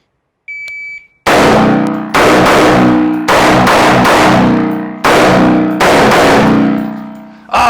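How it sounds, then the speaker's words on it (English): Nine rifle gunshots at home-defense distance, fired in quick bursts of loud, sharp reports, each ringing out with a long decaying tail, preceded by a short electronic beep tone. "9 shots. Let's go get them."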